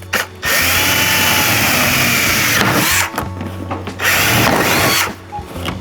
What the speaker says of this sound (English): using a 5/16 drill bit to drill out the last 2 holes